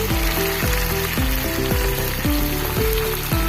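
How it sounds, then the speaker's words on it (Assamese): Fried potatoes frying with chicken in oil in a pan for dhaba-style masala chicken, a loud continuous sizzle and crackle, close, with no talk. "চিকেনৰ পৰা যিহেতু তেল ওলাই আছে, গতিকে ইয়াত মই এতিয়া ভাজি থোৱা আলু দি দিম।"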